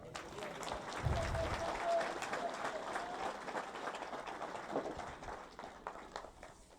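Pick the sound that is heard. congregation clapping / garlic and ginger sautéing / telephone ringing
congregation clapping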